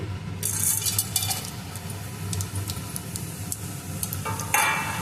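Whole pulao spices sizzle in hot oil in a steel pan, a steady close crackle with bright bursts of spitting and a few clinks, no talk.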